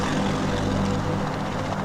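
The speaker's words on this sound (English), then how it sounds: "The Sikorsky H-34 helicopter struggles to lift the capsule" A Sikorsky H-34 helicopter hovering while straining to lift a water-logged Mercury capsule, its engine and rotor roaring loud, close and continuous with a steady low throb and no talk.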